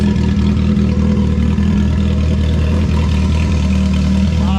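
A turbo kart engine idles steadily and loudly while warming up, a low rumbling drone with no change in pace throughout.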